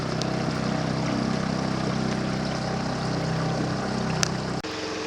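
A 9.3 hp Honda outboard motor pushes a 14-foot boat carrying two people, a steady, loud motor drone with water rushing alongside, continuous until an abrupt drop near the end.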